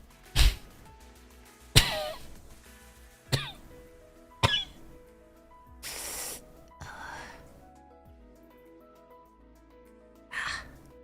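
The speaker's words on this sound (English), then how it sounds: "if I ever do and anyone hears my coughing fits, I'm sorry" A person coughing in a series of sharp, loud bursts spread over several seconds, with some harsher rasping coughs and throat clearing mixed in. The fit comes close to the listener and is the only sound, with no one speaking.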